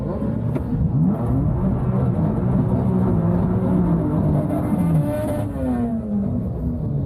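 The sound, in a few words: BMW M3 700hp burnout on drag strip tires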